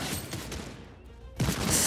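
Sniper rifle shots ring out in the shooter Fortnite, with a sharp crack near the start and another loud report near the end, and a quieter stretch between them with no voices.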